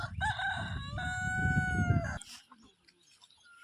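A rooster kept with other chickens in a village vegetable field crows once, a loud, close, drawn-out call lasting about two seconds, followed by faint clucks and quiet rustling.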